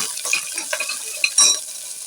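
Red chillies, green chillies and onion sauté in hot oil, a soft sizzle broken by quick scraping stirs of a spoon in the pan over about two seconds.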